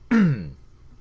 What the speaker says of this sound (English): Gotta clear my throat a little